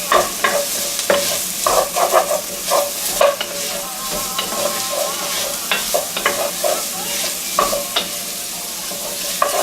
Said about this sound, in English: throwing in them bell peppers. Stir that around.